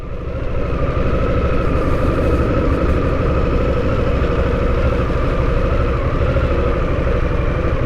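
Harley-Davidson Nightster motorcycle, 2022, with its 975 Revolution Max engine, runs at a steady idle, a loud, even rumble held close and constant throughout with no talk over it.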